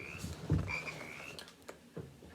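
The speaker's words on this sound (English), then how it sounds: "like this one, very common frog" A very common frog croaks loudly in a quick burst near the middle, followed by softer croaks and a faint chirping call, with no talking.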